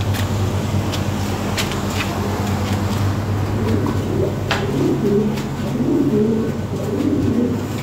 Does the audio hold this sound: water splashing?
no